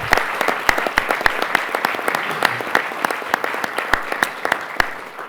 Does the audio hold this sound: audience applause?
yes